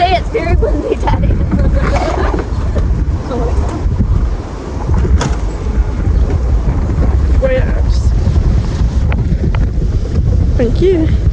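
Strong wind buffets the microphone outdoors, a loud, constant roaring rush with gusty swells, while a person speaks underneath.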